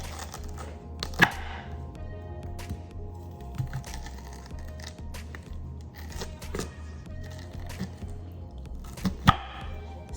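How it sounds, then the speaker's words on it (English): A knife chopping raw, uncooked corn cobs into pieces on a board, a few sharp isolated chops against a quiet kitchen background. "So now that my corn is clean, I'm gonna go ahead, I'm gonna cut mine into 3 pieces"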